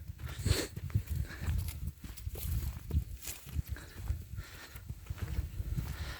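Irregular soft thuds of a young stallion's hooves plod along at walking pace, close by, with faint rustling in between and no talk.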